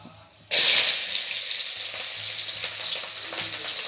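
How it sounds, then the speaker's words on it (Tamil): Mustard seeds dropped into hot oil for a tomato kuzhambu burst into a loud, bright sizzle after a short quiet start, crackling steadily to the end. "நல்லா பொரிய சவுண்டு கேட்டதுக்கப்புறம் அந்த நுரை"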